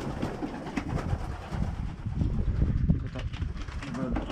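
Low, soft cooing of well-kept pet pigeons repeats close by amid rustling and outdoor background noise, with a voice talking over it.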